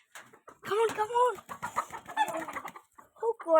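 Chickens cluck in a series of short, close calls while a chick is being fed, with people talking over and between the clucks.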